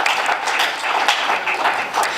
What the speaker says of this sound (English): If we can please give ourselves a round of applause for making it this morning